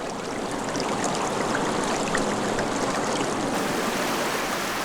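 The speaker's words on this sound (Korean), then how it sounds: "DMZ를 흐르는 물길이 잠시 쉬어가는 두타연" A stream flows at Dutayeon in the Korean DMZ, making a continuous, dense rushing and splashing that stays loud and even throughout, with no voices.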